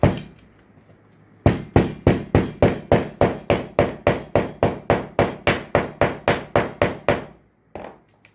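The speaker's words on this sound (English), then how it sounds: "Press it with a hammer." A hammer strikes about eighteen times in a quick, even rhythm, close and loud, after a brief quiet start, pressing clay into a sand-casting mold.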